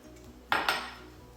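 A spoon scrapes and clinks twice against a cooking pot as rice is stirred into a Hungarian stuffed cabbage mixture, two quick metallic knocks close by in an otherwise quiet kitchen.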